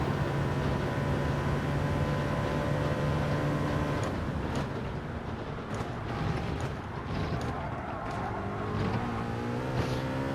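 A race car from Gran Turismo 7 laps Daytona, its engine a loud, steady high-pitched drone that shifts in pitch as it accelerates and changes gear, running continuously with no talk.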